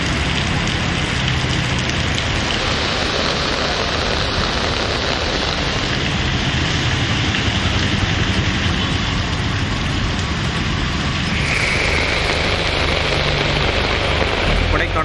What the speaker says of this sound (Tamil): நீலகிரி மாவட்டத்தில் கூடலூர் மற்றும் பந்தலூர் உள்ளிட்ட இடங்களில் கனமழை வெளுத்து வாங்கியது.